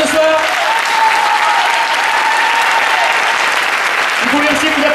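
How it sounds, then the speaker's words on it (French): Loud, sustained audience applause at the end of a comedy and stage hypnosis show, a dense continuous roar of clapping from a packed room with a few voices underneath. "Un dernier applaudissement pour ceux qui ont fait le spectacle ce soir"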